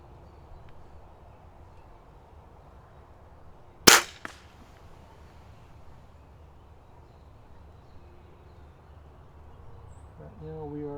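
A budget springer air rifle fires a single sharp shot at a can target 50 yards away, a brief crack followed by a faint tick, in otherwise quiet outdoor air with birds twittering faintly.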